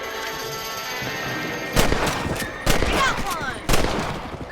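A rifle fires at rabbits in the video game Red Dead Redemption: three sharp, loud shots about a second apart, set against quieter game ambience, with a voice calling out briefly.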